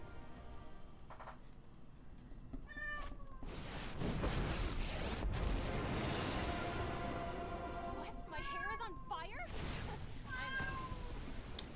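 A house cat meows repeatedly, close and fairly loud, its drawn-out calls rising above a rushing background noise and game sounds.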